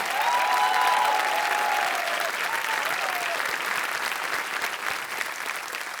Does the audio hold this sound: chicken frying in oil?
no